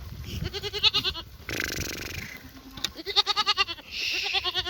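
Several sheep bleat close by in repeated wavering calls, one after another, with brief rustling gaps between them.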